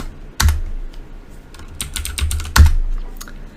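Commands being typed on a computer keyboard, with a few sharp close keystrokes and a brief run of rapid clicks between pauses.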